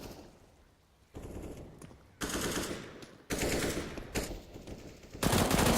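Automatic gunfire in a CS:GO tournament match rattles out in several sharp bursts, some louder and nearer than others, separated by brief quiet gaps.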